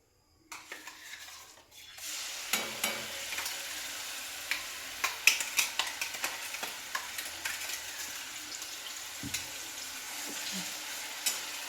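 Food frying in a pan with a broad sizzling hiss, broken by scattered clicks and taps of stirring and utensils. The sound starts after a short quiet opening.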